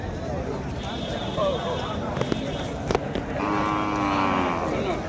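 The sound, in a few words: cattle mooing at a cattle market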